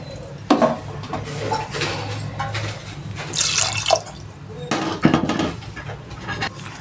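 Mutton being washed with water in a pot in a home kitchen, with splashing, dripping and metal pot clanks in short irregular bursts, fairly close and moderately loud.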